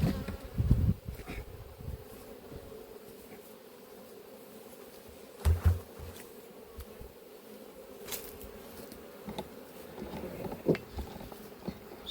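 Honey bees at a hive without a queen keep up a steady buzzing drone, with occasional closer passes and light knocks over the continuous hum.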